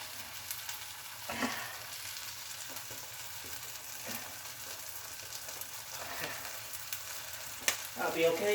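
Stir-fry sizzling in a pan with Blue Dragon dark soy sauce added, a steady soft crackle with scattered stirring clicks and scrapes, fairly quiet and close.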